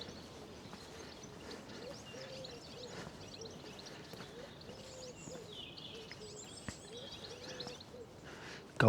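Goldfinches sing in springtime courtship outdoors, faint high chirps and twitters scattered through a steady low background hum, with no talking.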